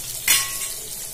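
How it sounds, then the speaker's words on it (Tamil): Dried and green chillies fry in a pan with a soft, continuous sizzle, and a brief stirring scrape sounds near the start. "இதெல்லாம் நல்லா ஃப்ரை பண்ணிக்கோங்க."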